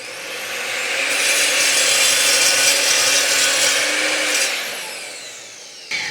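Evolution R255 SMS+ miter saw cutting through a hard, tough piece of wood: a loud, close, steady whining motor with a gritty cutting roar that holds for several seconds, then spins down and fades.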